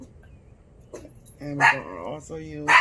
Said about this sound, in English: please excuse the dog barking,